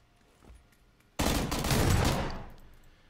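A single loud shotgun blast in PUBG (PlayerUnknown's Battlegrounds) bursts in suddenly after a faint thump, its close, broad boom lingering and decaying over about two seconds.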